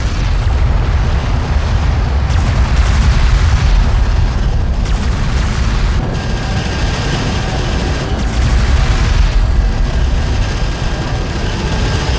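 Enemy gunfire and explosions in the desert war game Homeworld: Deserts of Kharak, a loud, dense barrage of booms and bursts rolling on without letup, with heavier swells partway through.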